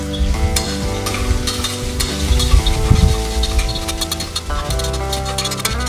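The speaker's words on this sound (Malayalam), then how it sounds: "ഇനി ഇതൊന്ന് നന്നായി വഴറ്റിയെടുക്കാം." Onion, ginger-garlic paste and biryani masala sautéing in a pan for Kerala-style chicken biryani, a continuous loud sizzle with stirring scrapes and clinks, close up and without speech.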